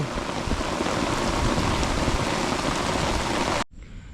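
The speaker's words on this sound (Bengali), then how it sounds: "যে হারে বৃষ্টি হচ্ছে" Heavy rain pours down in a dense, steady roar that stays loud and constant, then cuts off abruptly near the end, leaving faint quiet.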